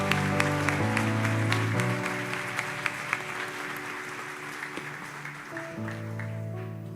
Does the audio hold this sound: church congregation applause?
yes